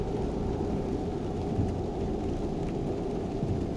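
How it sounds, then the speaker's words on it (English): Steady rain inside American Truck Simulator, played with a Tesla Semi mod on a highway, a dense continuous hiss with a low rumbling wash underneath that holds even and fairly close throughout, with no voices. "It's raining."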